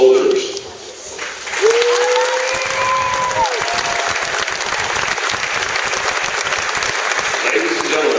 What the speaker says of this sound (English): please join us in giving these fine soldiers and civilians another round of applause